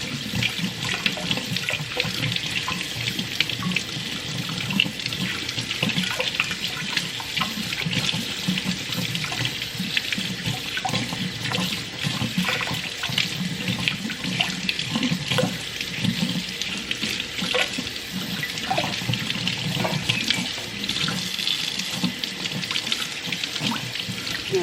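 A kitchen tap runs continuously while roasted jalapeno and poblano peppers are rinsed under it, a close, steady splashing stream of water that holds the same level throughout with no talking.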